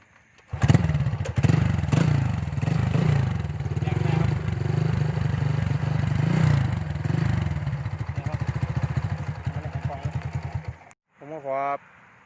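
A 125cc motorcycle engine catches and runs with a loud, close, throbbing putter that holds steady for about ten seconds, then cuts off abruptly before a brief burst of another sound at the end.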